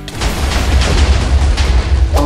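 A cannon shockwave blast in a Minecraft Jujutsu Kaisen mod erupts into a loud, sustained booming roar that rumbles heavily for about two seconds before a sharper burst at the end.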